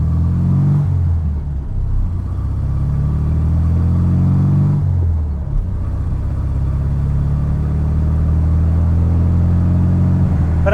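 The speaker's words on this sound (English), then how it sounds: "It's such a satisfying experience rolling through the gears in the VW Beetle" 1970 VW Beetle Type 1 driving, its air-cooled engine loud and close from inside, revving up through a gear, dropping at a shift and pulling steadily again.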